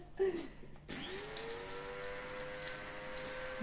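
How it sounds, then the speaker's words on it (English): A small electric grinder whirs up and runs steadily with a high mechanical hum, fairly close, after a brief clatter. "Let's stir it in a coffee grinder."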